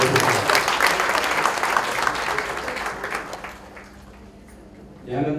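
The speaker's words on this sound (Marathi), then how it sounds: "आपण सर्वांनी हातावर थाप देऊन जोरदार टाळ्या वाजवून" Loud applause from the audience at a cooperative credit society's annual general meeting rolls on strongly, then thins and fades toward quiet before a brief new burst near the end.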